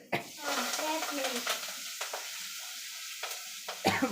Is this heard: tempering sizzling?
yes